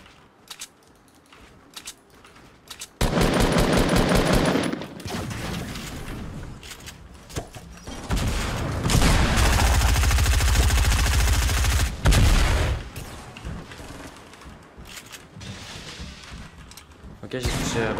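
Loud bursts of gunfire from snipers and other weapons ring out during a Fortnite Twitch Rivals Summer Skirmish tournament battle, with dense, sustained firing in several stretches and players talking over it.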